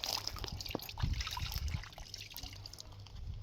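Water splashes onto a face outdoors on a hot day, a brief run of close trickling and dribbling with soft wet slaps, faint and quickly over.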